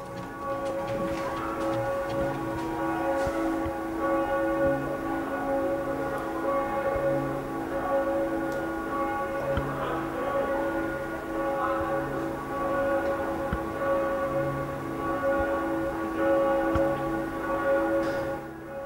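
Church bells of the Herderkirche in Weimar ring out noon, heard from a coffee roastery on Herderplatz as a dense, sustained peal of overlapping tones that holds steady throughout, with no speech.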